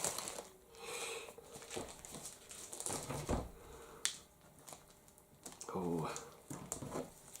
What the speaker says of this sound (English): Get all this blue tape off.